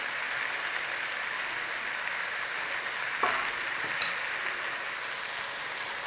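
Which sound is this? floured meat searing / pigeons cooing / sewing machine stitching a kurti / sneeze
floured meat searing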